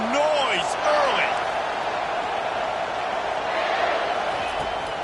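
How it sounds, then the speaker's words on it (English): Stadium crowd noise from an EA NCAA college football video game with South Carolina playing, a steady loud roar that fills the background throughout while a commentator talks over it. "This crowd bringing the energy and noise early."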